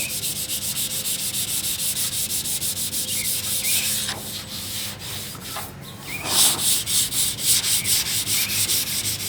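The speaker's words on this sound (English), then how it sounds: "this glazing putty, it sands real easy" Sandpaper of 400 grit rubs back and forth over glazing putty on a 1963 Cadillac body panel, producing steady rhythmic scratchy strokes, close and continuous, with a brief pause midway.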